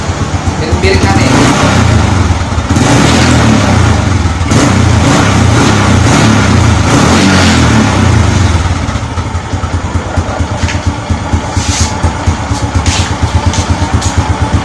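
A motorcycle engine starts and runs loud and close, with repeated revving and idling, and the exhaust smoke is said to smell worse than usual; someone talks over it.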